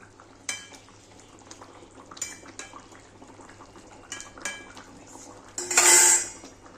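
A pot of katla fish curry is handled on a gas stove and lifted off, with several sharp metallic clinks and scrapes of pot and utensils, then a louder, longer clatter near the end; no talking.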